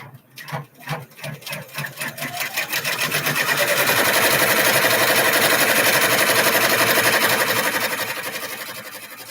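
A sewing machine stitches a bag, starting with a few separate chunks before running fast and steady for several seconds, loud and close, then slowing slightly at the end.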